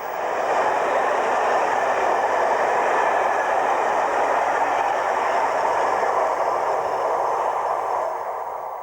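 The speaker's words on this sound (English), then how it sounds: "The Wessex departs, the run being used to test both train and third rail installation." A Wessex electric train departs on a newly installed third rail line during a test run, giving a steady, loud rolling rumble and whine that holds evenly throughout with no voices.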